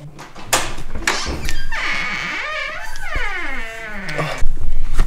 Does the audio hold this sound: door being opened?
yes